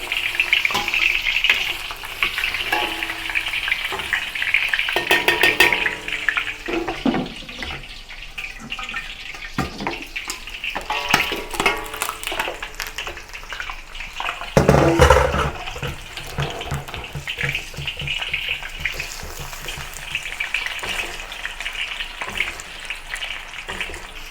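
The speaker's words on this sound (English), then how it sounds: "I'm going to fry this side a little bit longer." Pork knuckle fries in hot oil in a wok, a loud steady sizzle with bursts of spattering and crackling throughout, and a sharp louder flare of popping near the middle as the meat shifts.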